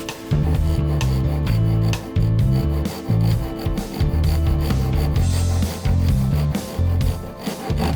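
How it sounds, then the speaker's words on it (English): Hand saw cutting the lid off a wooden keepsake box along kerfs at 45-degree lines, loud rhythmic rasping push-and-pull strokes with brief pauses between runs. "I can literally steer the saw as needed"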